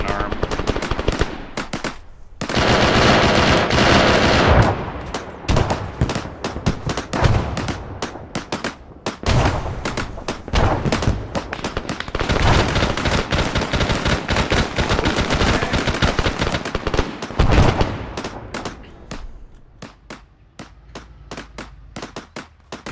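Machine gun fire and grenade blasts in the Arma 3 video game during a co-op battle on Lesko: long, dense bursts of rapid automatic fire mixed with sharp explosions, loud and sustained, thinning out toward the end.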